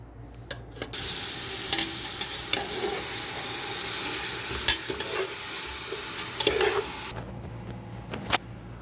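Butter sizzling in a pan while cooking kabsa, a steady close frying hiss that swells after the first second, with occasional stirring clicks and scrapes, then cuts back near the end.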